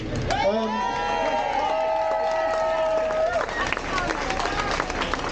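A rally crowd at a march for democracy in Manchester applauds and cheers, a long shout rising above sustained clapping and crowd noise that carries on steadily throughout.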